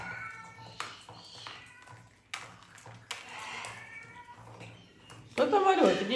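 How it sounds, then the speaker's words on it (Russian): A cat meows loudly near the end, a drawn-out wail that rises over a quieter room with faint background voices and taps earlier. "Коты плачут."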